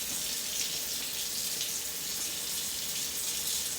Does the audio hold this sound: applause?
no